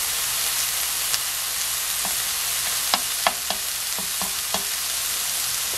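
Deodeok root grills in a pan before any seasoning goes on, giving a steady, close frying hiss with scattered small pops and ticks, with no voices.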